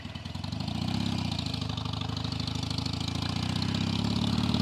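A Harley-Davidson Iron 883 motorcycle on the road, fitted with new adjustable shocks, gives a loud, continuous low V-twin engine rumble with a steady pulsing beat, close and alone throughout.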